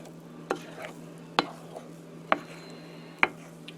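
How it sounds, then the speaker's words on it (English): Banana bread batter being folded and mixed with flour in a bowl, heard as four sharp, evenly spaced knocks of a utensil against the bowl over a quiet kitchen hum, with no talking. "The rest is just the flour to fold in and mix thoroughly."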